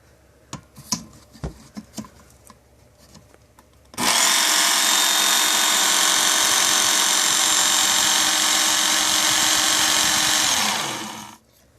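Work Sharp Ken Onion powered knife sharpener running a 2000-grit belt, starting after a few light knocks and handling clicks, then a loud continuous motor whine with belt hiss held steady for several seconds before winding down.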